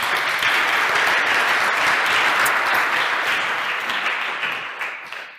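Conference audience applause after a security talk, a dense, even patter of many hands clapping at moderate distance, holding steady for several seconds before tapering off at the end.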